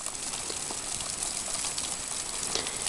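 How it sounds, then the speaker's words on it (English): Meltwater from the Canada Glacier in Antarctica's McMurdo Dry Valleys rushes through ice channels and spills into pools, a faint, distant, continuous hiss of flowing water. "it's just rushing within channels in the glacier and then pouring out into pools that go that way"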